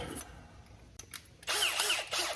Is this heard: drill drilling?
yes